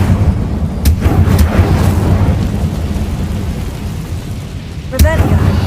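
Incendio fire spell cast in Hogwarts Legacy, a loud rumbling whoosh of flame with sharp cracking bursts near the start and end, deep and booming, with voices speaking over it.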